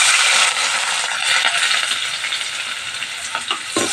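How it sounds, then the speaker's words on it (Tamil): Chopped onions sizzle loudly in hot oil in a pan for a hotel-style veg kurma, a steady bright frying hiss with a few scraping stirs near the end. "வெங்காயத்தையும் போட்டு நல்லா இறக்கி விட்டுடலாம்."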